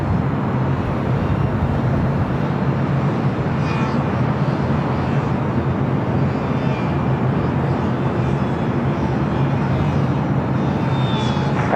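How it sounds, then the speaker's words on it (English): Airbus A380 jet departing LAX, a steady broad engine roar that fills the whole clip, loud and continuous with faint higher whines drifting over it. "Super, Airbus 380, just departed, caution, make turbulence"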